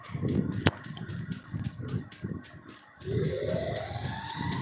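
A Free Fire siren wail rises partway through, rising in pitch over pulsing background game sounds, after an earlier sharp click.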